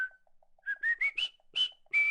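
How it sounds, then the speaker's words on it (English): A person whistles the Colonel Bogey march at high speed, a clear solo run of short, rising piping notes in quick succession with brief gaps between them. "if you wanted to whistle Colonel Bogey while doing a run, you'd have to go"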